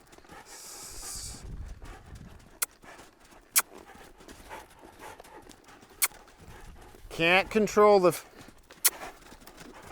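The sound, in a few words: horse moving with hoofbeats during groundwork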